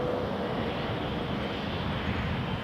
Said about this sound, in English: 777-300 ER to Barcelona